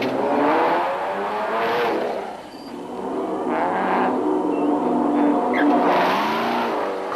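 Cross-country rally race cars in a 2006 African Heritage national championship leg drive along a road, engines revving loudly with shifting pitch as they pass close by, continuous throughout.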